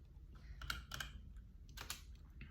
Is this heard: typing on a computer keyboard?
yes